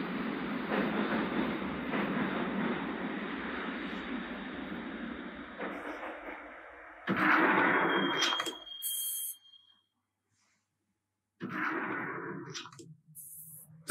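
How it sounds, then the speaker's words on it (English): Subway train ride in the video game Max Payne: a steady loud rumble of rolling carriages for about seven seconds, then louder bursts of braking and door noise, a short silence and more rumbling. "the train doors had already shut behind me, and I was in for the ride"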